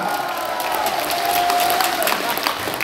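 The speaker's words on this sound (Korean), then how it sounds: "박수하겠습니다." A crowd applauds and cheers at the close of a Korean political speech about general elections, a steady, loud wash of clapping with a voice and a faint sustained tone running under it.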